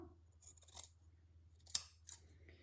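Scissors trim quilt fabric in a few quick close snips, crisp metallic cuts separated by brief quiet gaps, with no talking.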